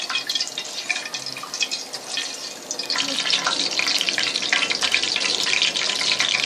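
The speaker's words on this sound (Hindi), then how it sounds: "एक मिनट के लिए इसे फ्राई करेंगे।" Ingredients frying in a pan for korma daal, with ginger-garlic paste going in, give a steady broadband sizzle with scattered crackles, growing louder and denser midway and holding close and continuous.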